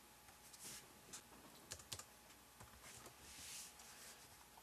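Soft keyboard typing on a computer while a programmer writes a code comment, a quiet run of uneven keystrokes with a few sharper clacks, steady and close, no voices.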